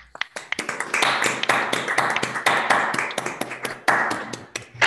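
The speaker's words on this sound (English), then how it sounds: "You can all unmute yourself so we can applaud Kasia now." Applause from online meeting participants after a talk, many overlapping unmuted claps arriving as sharp, irregular bursts, fairly close and continuous for several seconds.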